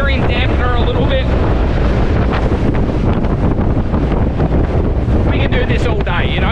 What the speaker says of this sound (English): This is quarter throttle. We're chugging along, we're straight into the wind, straight into the breeze.